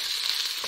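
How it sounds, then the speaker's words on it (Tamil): Mustard seeds spluttering alongside onions frying in hot oil, a steady close bright sizzle with faint crackles throughout, no voices. "கடுகு பொரிய ஆரம்பிச்சிருச்சு."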